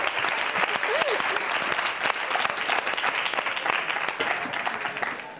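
A crowd applauds a young man called up on stage at a live show, a broad, even wash of clapping throughout with a brief vocal sound early on.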